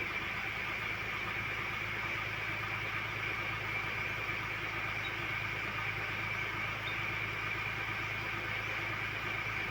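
Engine of a 2021 Ford Ranger Raptor running at a steady, fairly faint drone with a constant hum and no clear rise in revs, alone without talk.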